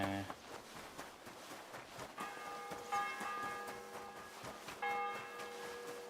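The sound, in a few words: church bell ringing in video game Kingdom Come: Deliverance II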